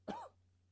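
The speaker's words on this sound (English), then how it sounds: "Sorry for the coughing." A single short cough or throat clear, close and fairly quiet, standing alone over a faint steady hum.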